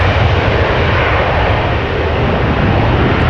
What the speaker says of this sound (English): This is KLM flight 1157, Embraer 190 going to Gothenburg.